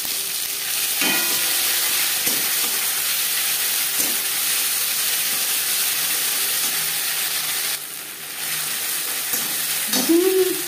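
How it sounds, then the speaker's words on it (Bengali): Ginger and green chili paste fries in oil with whole spices and bay leaf, a loud, steady broadband sizzle and hiss filling the whole stretch, briefly dipping near the end, with faint stirring knocks and no speech. "দিয়ে দেব 1 চামচ আদা ও কাঁচা লঙ্কা পেস্ট"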